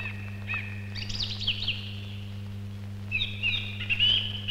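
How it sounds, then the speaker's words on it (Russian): Songbirds sing in a forest, a few bright chirping and warbling phrases clearly heard over a steady low electrical hum, with a short pause between bursts. "записывает голоса певчих птиц"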